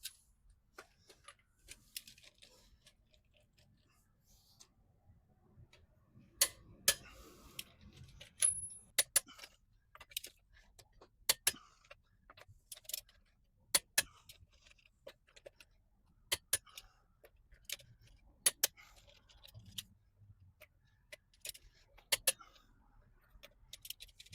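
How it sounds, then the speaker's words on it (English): A torque wrench set to 140 foot-pounds ratchets and clicks while bolts on 6-ton jack stands are tightened, producing sparse sharp metallic ticks and clicks at irregular intervals over a long stretch, close and fairly quiet with no talk. "So I have my torque wrench set at 140 foot-pounds, and we're going to go ahead and get this party started, get this thing torqued down"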